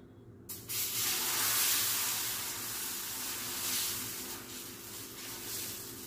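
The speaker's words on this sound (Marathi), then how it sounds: "आपण पुन्हा तेल घालूया आणि दुसरा पुडलं तव्यावर टाकून घेऊ" Besan pudla batter sizzling and hissing on a hot oiled griddle, a steady, fairly loud frying spray that starts abruptly and holds for several seconds with no talking.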